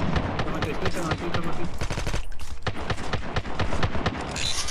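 Rapid automatic gunfire in Call of Duty Mobile, dense close bursts of repeated shots that fill the whole moment and drop out briefly midway, with players talking over it.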